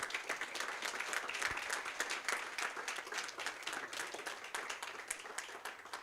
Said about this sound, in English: He deserves another clap and a standing ovation.